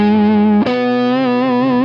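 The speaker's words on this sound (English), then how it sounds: "you can also hear this distorted overtone. It's an out of tune harmonic." An electric guitar through a small homemade 1W LM386 amplifier, a sustained distorted note with a buzzy, slightly off-pitch overtone that shifts once partway through, loud and alone.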